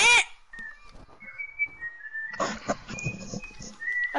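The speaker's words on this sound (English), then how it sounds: "Okay, who's whistling?" Someone whistles short sustained tones in a loose melodic line, fairly clear and close, with brief rustles and thumps between the notes.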